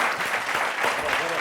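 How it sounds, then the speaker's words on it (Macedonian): An audience applauds continuously and densely throughout, a full roomful of hands clapping at steady volume, with a voice faintly mixed underneath. "Ево го аплауз Ивица"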